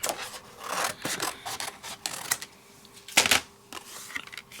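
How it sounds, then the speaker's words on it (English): Scissors trimming a piece of gold paper into a card topper for card making, a series of quick rasping snips in an uneven rhythm, close and fairly clear, with one louder cut near the end. "And I'm just going to trim this down."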